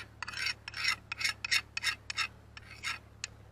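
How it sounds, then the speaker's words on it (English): A Nepali Sirupati khukuri blade rasps during sharpening in a series of about a dozen short, rhythmic scratching strokes, close and fairly clear over a low steady hum. "that scratching noise"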